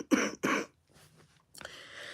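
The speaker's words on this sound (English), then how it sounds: "I'll cough like this" Two quick, close, dry coughs in a row, followed by quiet breathing and a faint throaty rasp at the end.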